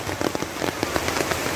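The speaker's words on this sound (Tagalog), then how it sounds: "So yun guys, ang lakas ng ulan." Heavy rain pounding a surface during a delivery stop: a dense, continuous hiss with sharp, close drop impacts spattering irregularly, no talking.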